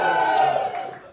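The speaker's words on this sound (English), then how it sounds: "Give me a cheer if you're not Swiss." Audience at an English-language comedy show cheering briefly in response to the comedian, a loud crowd burst that fades over about a second.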